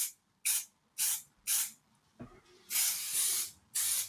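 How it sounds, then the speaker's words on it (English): An aerosol can of chalk spray hisses in several short bursts, then a rattle, followed by two longer sprays, loud and close. "Have a little shake and rattle of your can. Clean with his chalk spray."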